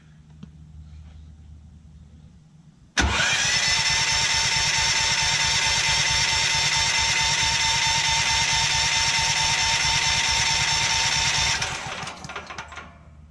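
A Ford FG11050PBE dual fuel generator engine starts abruptly and then runs at a loud, steady drone close by for about nine seconds before cutting out, with only faint background noise before and after.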